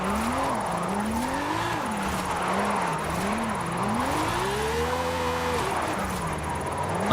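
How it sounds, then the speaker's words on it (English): A Lamborghini drifting in the racing game Forza Horizon 5, its engine note continuously rising and falling as revs swing through the slide, with a steady, close, loud whine and no talking. "so this is a Lamborghini drifting"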